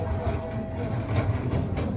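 A mountain rail train on Fansipan rumbles low and steady, with a faint mechanical hum and no talking.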